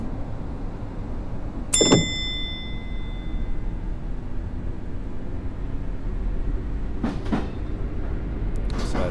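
A train pulling away in the JR East Train Simulator game on the Keihin-Tohoku Line through Tokyo, with a steady low rumble, a sharp bright chime or ding near the start, and a few clanks and rattles later.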